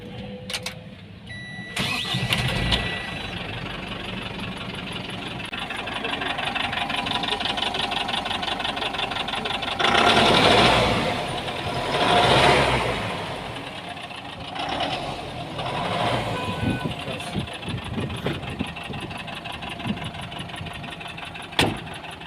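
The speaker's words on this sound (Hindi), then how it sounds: "अभी इंजन को स्टार्ट कर इंजन के साउंड सुनाएंगे" A Tata 610 SFC six-wheeler BS6 truck's diesel engine cranks and fires, then settles into a steady, rumbling idle with a few revs rising and falling, close and loud, with no talk.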